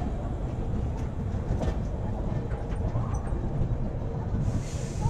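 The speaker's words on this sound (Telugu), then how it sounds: "మొత్తానికి విజయవాడ నుంచి డిపార్ట్ అయిపోయింది ట్రైన్" Amaravati Express train running shortly after leaving Vijayawada, heard from inside the coach as a steady low rumble and rattle of wheels on track, continuous and fairly loud throughout.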